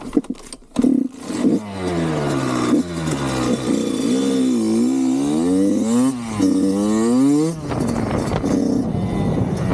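A 2024 Kawasaki KX 85 dirt bike ridden on rough off-road ground. Its two-stroke engine revs up and down repeatedly, close and loud, with a few clattering knocks near the start and a final blip of throttle.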